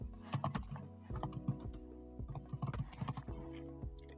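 Quiet keyboard typing up close, a quick irregular run of key clicks with short pauses between bursts.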